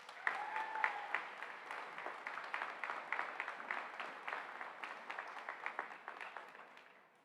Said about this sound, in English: So please give a round of applause to Dr.